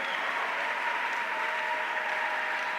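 Church congregation applauding Jesus during a lively service, with steady, dense clapping that holds at an even level throughout, close and full, with no speech over it.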